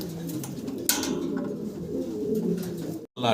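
Fancy pigeons coo softly at close range, giving low, rolling calls over a faint background with occasional light knocks.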